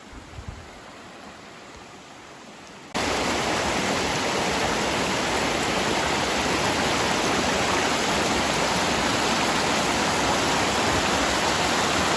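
A rough mountain creek in the Cohutta Wilderness rushes steadily and loudly, a dense continuous roar of flowing water that jumps up sharply after a quieter opening few seconds.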